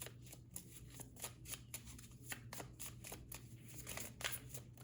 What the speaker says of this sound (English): So let me pull a couple of more cards for you guys.